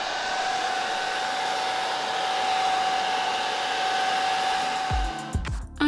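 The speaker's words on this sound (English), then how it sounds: "I got impatient waiting for natural dry time, so I pulled out my hair dryer." A hair dryer blows steadily and loudly up close, drying painted fabric on a chair, a constant whirring rush with a faint tonal hum, clicking off abruptly near the end.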